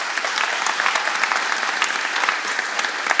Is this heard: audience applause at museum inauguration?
yes